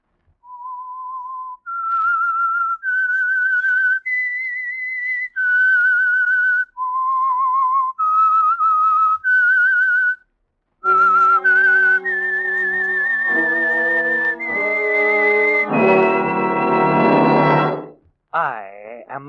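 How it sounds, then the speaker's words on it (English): A melodic theme is whistled alone, clear and close: a rising and falling sequence of sustained pitched notes, then joined by a swelling orchestral chord that builds to a loud final blast before cutting off. "That whistle is your signal for the Signal Oil program"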